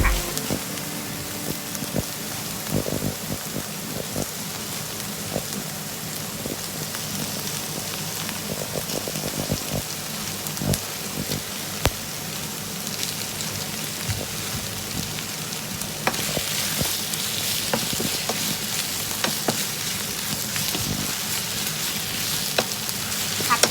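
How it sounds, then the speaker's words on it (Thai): Shrimp stir-fried with onions in a pan for Japanese chili shrimp, a constant crackling sizzle like rain, with occasional utensil scrapes and taps, growing slightly brighter and louder toward the end. "เดี๋ยวเราเอากุ้งลงไปผัด"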